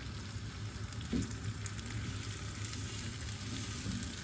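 Filling for stuffed grape and chard leaves sautés in a pan with a continuous close sizzle, steady and even, with a small bump of louder frying early on.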